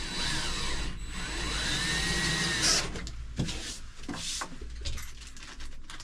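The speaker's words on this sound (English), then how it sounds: "So right now we're over drilling the PVC." A cordless drill whirs steadily into PVC, a continuous motor whine that stops partway, followed by scraping and handling noises.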